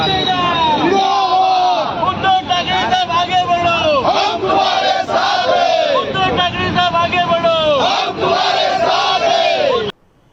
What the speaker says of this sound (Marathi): शिवसैनिकांनी फटाके वाजवून जोरदार घोषणाबाजी केली